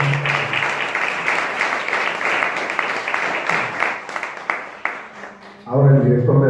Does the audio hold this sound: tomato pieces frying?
no